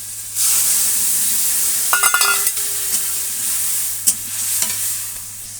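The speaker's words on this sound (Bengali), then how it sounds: "উচ্ছে আলু কষাচ্ছি" Bitter gourd and potato sautéing in a pan, a loud steady sizzle with a low background hum, broken by brief bursts of spatula scraping and stirring.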